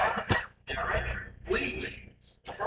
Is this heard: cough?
yes